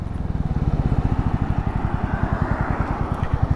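Honda CB350C motorcycle cruising at roughly 70 km/h, its single-cylinder engine thumping in a fast, steady pulse up close, the rhythm loosening slightly as the front brake is applied.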